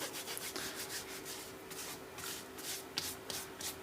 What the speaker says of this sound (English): On the checkering, just give it a rub.